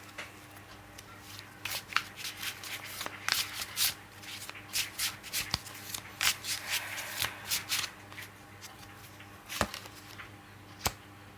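A deck of tarot cards is shuffled by hand in a quiet room, giving a steady run of soft riffling and flicking bursts close to the mic, with a few sharper snaps standing out against the gentle background.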